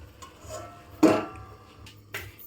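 A metal lid is set onto a cooking pot of tadka after ghee is added, one clear clank followed by a lighter tap, close and isolated against quiet kitchen background.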